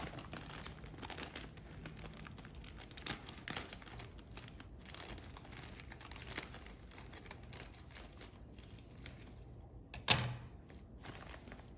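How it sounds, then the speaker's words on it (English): Plastic packaging of brewing grains for a brown ale kit crinkles and rustles at close range, followed by a sharper sound near the end as the bag is cut open. "I'm now gonna cut the grains open and put them in the bag."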